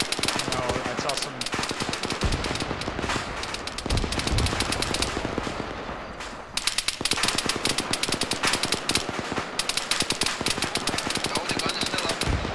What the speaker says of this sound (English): I believe it's the BTR firing.